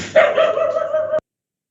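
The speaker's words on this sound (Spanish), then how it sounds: "El perro ladrando." A single dog bark, close and loud, one sharp yelping bark about a second long that cuts off abruptly into silence.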